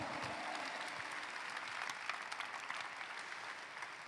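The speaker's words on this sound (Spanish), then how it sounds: "Alguien dale un aplauso fuerte a Jesús." Congregation clapping during a Spanish-language church service, a dense, even round of applause that holds steady for a few seconds at moderate, slightly distant level.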